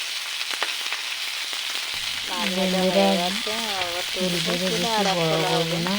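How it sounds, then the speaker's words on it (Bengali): Constant crackling sizzle of fish and fish heads frying in hot oil, close up; partway through, a voice starts talking over it. "আর এই সাইডে মাছ ভাজছি"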